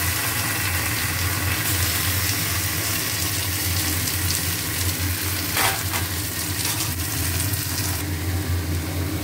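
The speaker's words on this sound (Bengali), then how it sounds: "পেঁয়াজের সঙ্গে আর একটু ভেজে দিচ্ছি" Potatoes and onions fry in a pan with a steady, close sizzle that runs throughout, with a few brief stirring scrapes and no talking.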